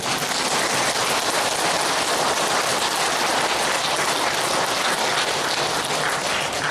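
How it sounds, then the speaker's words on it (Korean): A lecture audience breaks into dense, loud applause, a continuous rain-like wash of many hands clapping together that holds steady from start to finish. "우리 박수 한번 쳐야 되잖아요"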